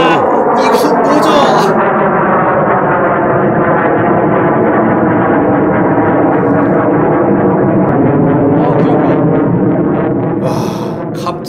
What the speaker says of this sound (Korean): 그냥 비행기가 아니라 전투기 폭격기 같은 모양새. 하여간 소음이 고막을 찢어놓는 수준.